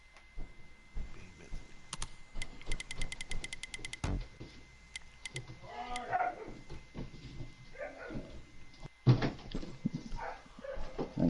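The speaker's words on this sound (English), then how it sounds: "And the dog's getting ridiculous upstairs. I can hear it." A dog upstairs barks in a run of quick, regular, sharp yaps, slightly muffled, with a few louder barks and whimpers scattered through a busy room background; no talking.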